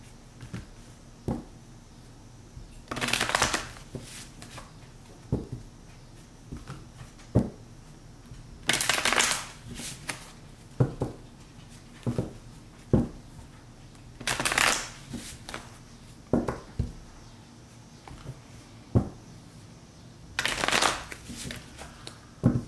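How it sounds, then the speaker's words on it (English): A deck of tarot cards is shuffled repeatedly, crisp riffling bursts every few seconds with softer taps and card handling in between, close and fairly quiet. "Go ahead and just shuffle a few more times."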